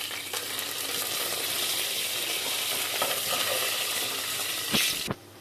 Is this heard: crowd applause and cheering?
no